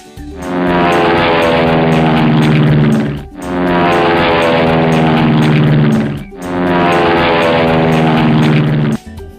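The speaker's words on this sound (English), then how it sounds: "Wow, that's a space jet. Wow, it's flying." A toy space jet gives off a loud, steady buzzing drone like a propeller engine, running in three long sustained bursts separated by brief dips as it flies and lands.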